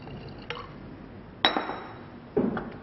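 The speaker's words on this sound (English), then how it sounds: "And finally, chlorine water into potassium iodide." Chlorine water added to potassium iodide solution in a glass flask: a couple of brief glassy clinks and short liquid pours, close and quiet, with no voices.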